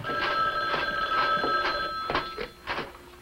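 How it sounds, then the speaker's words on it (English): An old-fashioned telephone bell rings in an interior scene from a 1968 film, several short metallic bursts repeating at a quick, regular pace, fairly loud and close with no talk over it. "Your phone's ringing."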